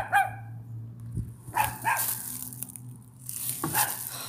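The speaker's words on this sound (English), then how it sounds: "This dog is so annoying." A neighbour's dog barks outdoors in a backyard, giving a few sharp, fairly close barks and yips spread over several seconds with pauses between them, and nobody speaks.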